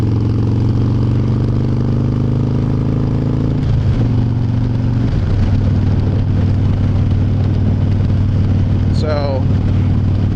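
A Harley Dyna motorcycle, just fitted with a new idle valve, runs at a steady idle close by. Its low, even engine drone carries through the whole stretch, with a brief shift near the middle and a faint higher whine near the end.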